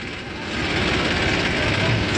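Tractor engine running, a loud, steady, close-up diesel rumble that holds evenly for about two seconds.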